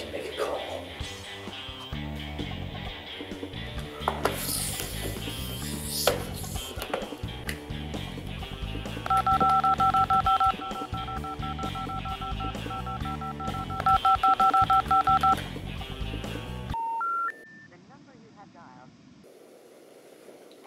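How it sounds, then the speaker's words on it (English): A telephone is dialed in a dramatic scene: a steady two-tone signal holds for several seconds over busy music and voices, then a short run of stepped keypad tones sounds as the music drops away. "I need to make a call."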